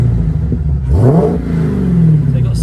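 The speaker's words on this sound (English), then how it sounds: "let's quickly see what the exhaust sounds like" A UK-mapped Dodge Challenger SRT Hellcat with a 707 hp engine, 8-speed gearbox and standard exhaust idles with a deep, loud rumble, then revs up sharply and settles back to a throaty idle.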